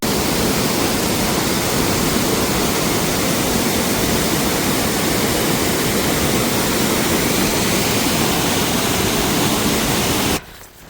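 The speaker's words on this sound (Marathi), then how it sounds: "फायनली धबधबा हा गावलेला आहे" A dense, roaring rush of falling water fills the air without a break, loud and constant, then cuts off abruptly right at the end.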